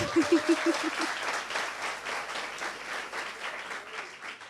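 An audience claps continuously in a warm, sustained round of applause after a short burst of sharp beeps at the start.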